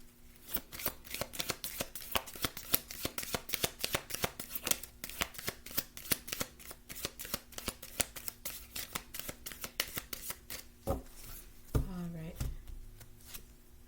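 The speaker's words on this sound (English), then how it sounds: "Last shuffle." Tarot cards being shuffled by hand, a rapid close run of crisp riffling slaps repeating steadily for over ten seconds, ending with a short voice and a final card flutter.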